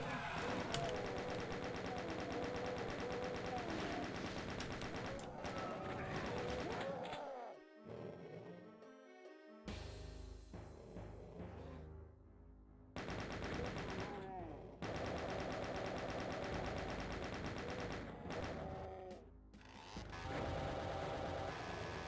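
Gunfire from the original Doom on Ultra Violence, bursts of rapid shots and crunching impacts recurring over about twenty seconds, with brief quieter gaps between volleys, no voice heard.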